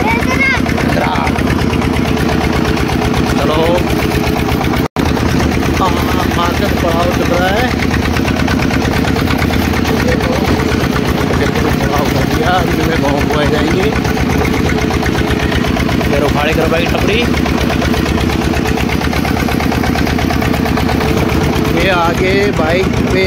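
Tractor engine idles steadily throughout, a constant loud chugging drone with a brief dropout near the five-second mark, while people talk over it.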